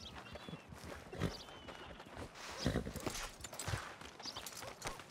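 A horse's hooves clip-clop in steady, uneven steps in Red Dead Redemption 2 Online, moderately close, with a few sharper knocks standing out over a soft background bed.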